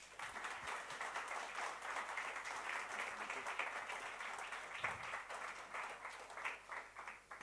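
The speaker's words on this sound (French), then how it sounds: "je vous demande de faire un tonnerre d'applaudissements" An audience at a masterclass on innovation gives sustained, dense applause, steady and even for the whole stretch, with a few voices mixed faintly into the clapping.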